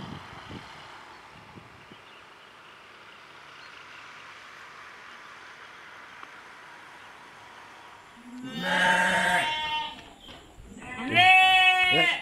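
Gibas sheep in a livestock pen give loud, close bleats near the end after a long stretch of steady background hum, with two distinct drawn-out calls.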